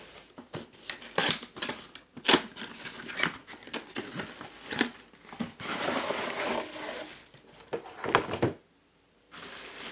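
A paper folding box package is opened with crisp crinkling, tearing and rustling handling noises in irregular bursts, close and fairly loud, ending in a brief near-silence.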